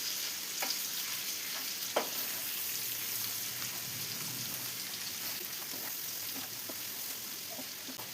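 Chicken with onions, tomatoes and curry leaves fries on high flame as it is stirred in a pan, a soft continuous sizzle punctuated by a few sharp utensil clicks and scrapes.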